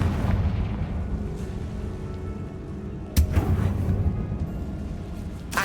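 A Confringo fire spell from the Hogwarts Legacy video game goes off with a sudden loud blast in the middle of the clip, then rumbles over steady low background noise.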